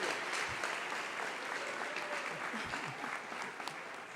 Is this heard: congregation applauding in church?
yes